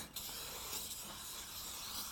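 A continuous aerosol spray hisses close up onto a motorbike, steady and breathy for about two seconds with no voices.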